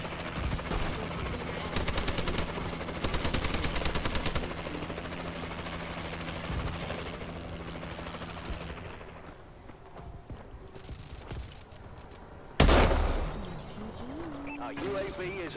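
The Atlas 20mm weapon fires in a first-person shooter game, a dense rapid stream of heavy booming shots over several seconds, then quieter intermittent blasts and one sharp loud hit, mixed with background game noise and voices.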